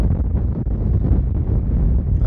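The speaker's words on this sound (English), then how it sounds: "and definitely getting more windy." Steady wind buffeting the microphone on a mountain ridgeline in Rainbow Mountain Wilderness, Nevada, a low continuous roar with gusty rumbles throughout and no voices.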